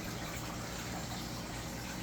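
Pumped water pours down into a backyard pond in a constant, rushing gush, steady and fairly close with no voices.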